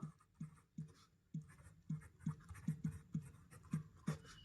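Pen strokes scratching on paper while writing out a class 8 maths solution, a quiet, irregular series of short taps and scrapes, close and alone.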